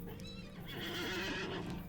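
A Clydesdale horse in the LOTRO video game gives a loud, drawn-out whinny over the steady clatter of hooves and an ambient game background.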